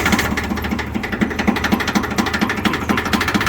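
A Yanmar YM1610 small farm tractor's diesel engine idles steadily after starting, a close, even chugging rhythm with regular knocking pulses, a bit harsh, with no talking over it.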